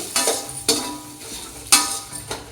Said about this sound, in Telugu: మక్కాన కూడా ఒకేసారి వేసేసి ఫ్రై చేసుకున్నాము